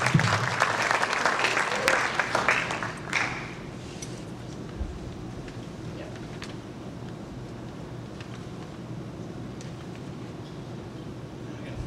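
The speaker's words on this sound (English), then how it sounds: "So let's have a round of applause for the teachers and the parents." Audience applause at a school science research symposium, loud for about three seconds and then abruptly dropping away to quiet room noise with faint scattered sounds.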